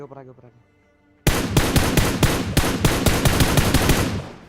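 A rapid burst of game gunfire: a dozen or so sharp, loud shots in quick succession after a brief tonal sound and a moment of near silence.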